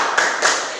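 Children in an elementary school classroom clap together in a short rhythmic cheer, two crisp, close group claps in quick succession.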